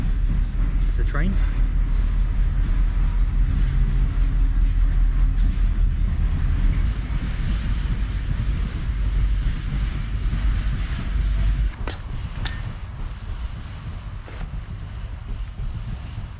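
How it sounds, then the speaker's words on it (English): A train rumbles past close to a tent pitched for stealth camping in a UK city, a loud sustained roar that eases slightly partway through, with a voice talking over it. "It's the train."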